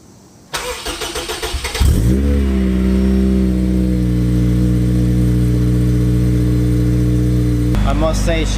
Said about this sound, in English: So, hey, perfect time for a cool cold start. Well, a month cold start.